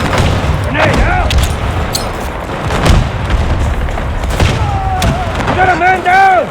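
Grenade blasts and gunfire in Battlefield 2042, with scattered booms and shots in busy game combat, while voices talk over it and radio-like chatter joins near the end.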